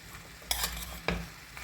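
Vegetables such as cauliflower and paneer sautéing in a little oil for a vegetable kadai, with a soft steady sizzle and two brief scraping stirs of a spoon in the pan.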